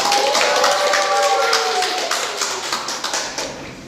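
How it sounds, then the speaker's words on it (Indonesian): An audience at a talk claps in a steady, close patter that thins into separate claps toward the end, with voices and a faint tonal sound running underneath. "Tepuk tangan."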